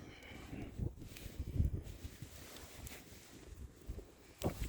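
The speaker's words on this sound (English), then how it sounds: "I wish it wasn't windy." Gusty wind buffets the microphone outdoors in Wyoming's Big Horn Mountains, low rumbling bursts rising and falling irregularly, with faint rustling in the background.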